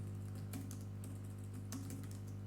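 Light typing of Python code on a computer keyboard, soft scattered key taps over a steady low electrical hum, no talk.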